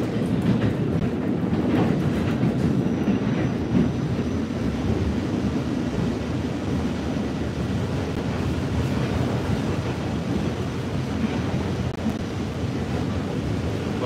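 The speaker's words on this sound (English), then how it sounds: "now you know Staten Island has a train" A Staten Island Railway train rolls past nearby, its steady rumble and clickety-clack of wheels on rails filling the whole stretch at a constant level with no talking.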